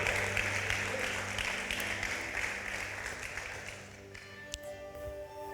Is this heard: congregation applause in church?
yes